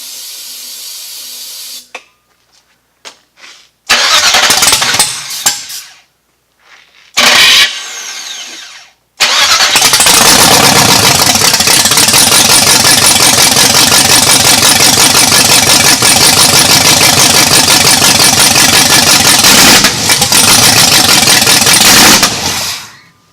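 A DJ530 engine sputters and pops with short bursts, then catches and runs loud and steady for over ten seconds with a harsh buzzing roar before cutting off near the end.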